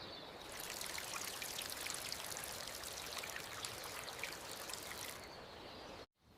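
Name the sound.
watering the plants, water pouring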